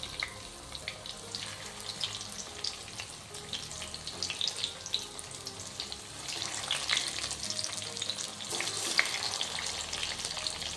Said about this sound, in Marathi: एक एक वांगं आपल्याला ह्या तेलात ह्या पद्धतीने ठेवून घ्यायचे आहे